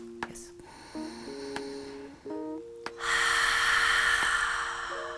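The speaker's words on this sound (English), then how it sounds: "take a very deep inhale through your nose and a deep exhale through your mouth" Ujjayi ocean breathing: a deep breath drawn in through the nose, then a long, loud, breathy exhale that hisses steadily for about two seconds, set against soft background music tones.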